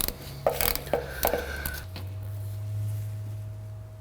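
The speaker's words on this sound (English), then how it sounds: "Gonna now remove the fill plug, which is 3/8." Ratchet loosening the 3/8 differential fill plug on a Ford Fairmont, a few distinct clicking strokes close up in the first two seconds, then a steady low hum.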